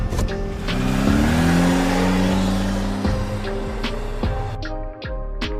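A cartoon car revs and turns, its engine climbing in pitch amid tire squeal before speeding away, loud and close, with sharp clunks and knocks scattered throughout.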